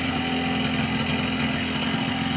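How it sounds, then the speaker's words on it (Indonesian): Fishing-boat generator engine powering lights running after a pull start, a loud steady drone with a low humming throb and no pauses. "menarik mesin"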